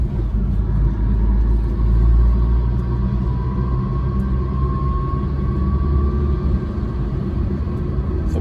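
A 1992 Fiat Uno rolls around a roundabout, its engine and road noise a steady, loud low rumble heard from inside the cabin, with a faint rising whine running through it.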